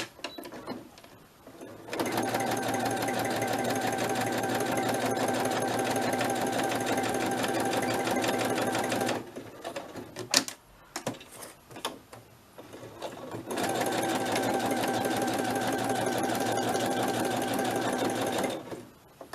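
A sewing machine stitches around a soft spine journal in two long, loud runs of rapid, even mechanical chatter, separated by a short pause with a few clicks and handling noises.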